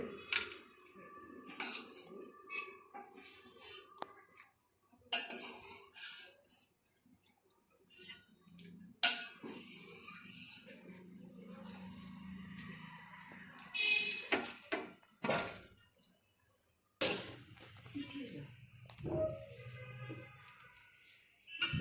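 Ice cubes tipped from a tray clatter into a wide basin of cold water while blanched spinach is being cooled, giving scattered close knocks and rattles with quiet gaps between.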